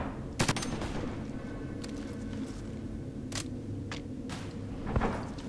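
Gunfire in the tactical shooter Ghost Recon Advanced Warfighter 2, a steady background of shooting punctuated by several sharp, close single shots spaced unevenly across the stretch, no voices over it.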